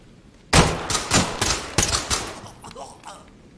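A full magazine emptied in quick succession in the tactical shooter Ready or Not: about six sharp, loud close-range shots in an uneven burst, then a short tail of room echo and faint movement.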